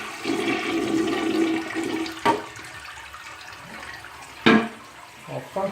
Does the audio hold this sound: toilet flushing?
yes